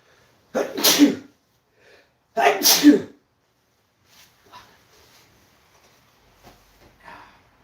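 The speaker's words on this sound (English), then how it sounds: "Oh, I gotta sneeze." Two loud sneezes close together, then faint rustling and soft breathy sounds in a quiet room.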